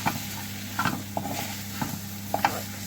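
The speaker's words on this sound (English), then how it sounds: "we'll give that all a really good stir round," Curried potato and pepper filling stirred in a hot pan, a low sizzle under several sharp scrapes and taps of the utensil against the pan, close and moderately loud with no talking.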